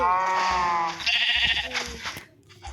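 Sheep bleating on a farm in a video game: one long, wavering bleat sounds up close at the start, then gives way to softer scattered game noises and shuffling.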